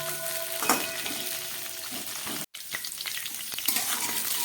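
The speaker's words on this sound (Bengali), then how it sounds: "3-4 মিনিট ধরে ফুলকপি আলুগুলোকে আমি ভেজে নিলাম" Cauliflower florets and potato pieces fry in hot oil in a pan for a katla fish curry, giving a steady close sizzle with a few stirring scrapes and a brief break midway.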